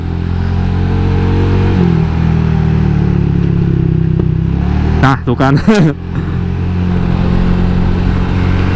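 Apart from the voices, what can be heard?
replacement motorcycle engine revving and popping irregularly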